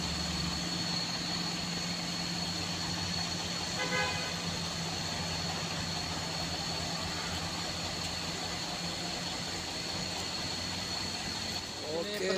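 An Isuzu truck engine labours up the steep Gerabuan hill climb, a loud, steady drone running the whole way through with a brief horn-like tone partway in.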